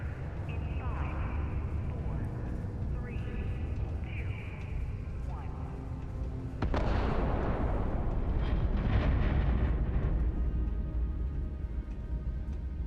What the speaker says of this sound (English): That's a crazy explosion every single time.